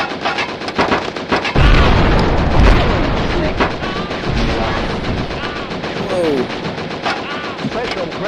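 Gunfire and a booming special grenade explosion from the arcade shooter Operation Warcade, loud bursts layered over rapid shots, with a voice talking over the action.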